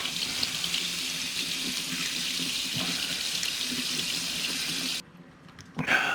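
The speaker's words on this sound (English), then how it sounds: "Alright, we'll rinse that fillet there off." A kitchen sink tap runs steadily while a red snapper fillet is rinsed under the stream, with water splashing close by until the flow cuts off near the end.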